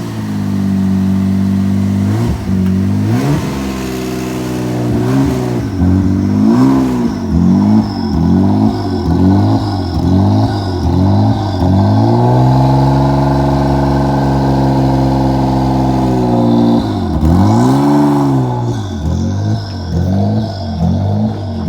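A Mitsubishi VR4 car revs its engine hard and repeatedly while driving, loud close rising and falling engine pulls with a sustained high-rev stretch in the middle, no talk.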